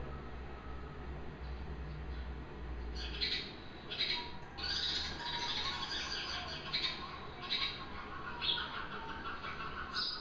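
A small bird calls in repeated short, bright bursts, a few seconds apart, over a steady low rumble of background noise.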